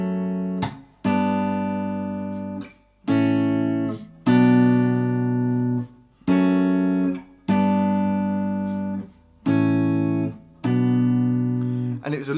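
Guitar chords from the chorus of a song ring out clearly, about six strummed chords in a steady rhythm, each one sustained and left to decay before the next, played alone up close.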